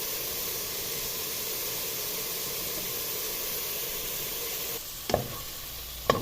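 An onion sizzles steadily in a hot pan, a constant frying hiss, then a few clear scrapes and knocks of stirring near the end.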